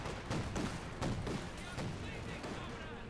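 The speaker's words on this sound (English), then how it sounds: "Laying down a vicious torrent of flak fire." Rapid flak fire from a Flak Panzer in Company of Heroes 2, a dense stream of repeated gunshot bursts over a continuous battlefield din, with a voice faintly present underneath.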